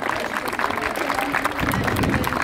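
An audience claps and cheers for the volunteers at a U13 elite youth football tournament final, with dense, steady applause filling the whole stretch and swelling slightly near the end.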